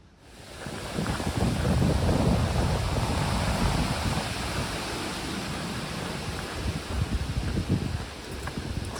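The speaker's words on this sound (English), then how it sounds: "Quite windy this afternoon." Strong afternoon wind on the Appalachian Trail in Pennsylvania, near a rocky pinnacle, roars and buffets the microphone in steady, heavy gusts that build quickly and hold loud throughout, with no talking.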